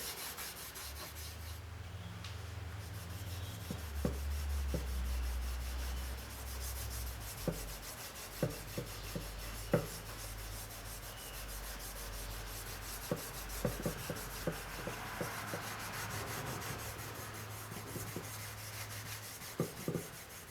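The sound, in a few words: rubbing wax polish onto a cricket bat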